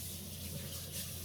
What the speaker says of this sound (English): You rinse it out, that's it.